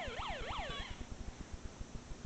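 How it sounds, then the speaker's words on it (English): A toy electronics kit board sounds a police-style siren, a rapid rising-and-falling electronic wail that stops after about a second, leaving faint rhythmic clicking and background hiss. "That's a police siren."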